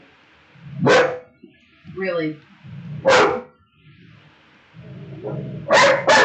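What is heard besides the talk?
dog barking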